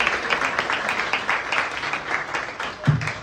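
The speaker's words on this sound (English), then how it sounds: "Can we a round of applause for both of them again for this very important moment." Audience applause at a disability rights event, moderate and steady across a few seconds, with a brief low thump near the end.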